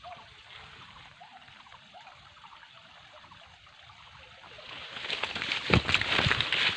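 Solar-pumped irrigation water pours from about 1,500 feet of pipe into a maize field, a close steady trickle and gurgle that grows into louder splashing toward the end.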